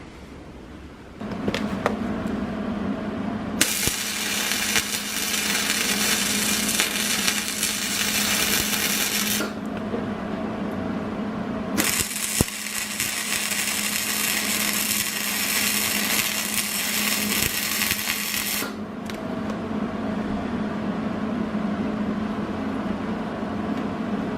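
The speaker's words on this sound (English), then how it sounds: "I'm going to go ahead and get this one welded up." Welding tacks on a steel bevel jig for knife making: a loud, continuous crackling buzz in two long bursts separated by a short pause, close up and with no talking.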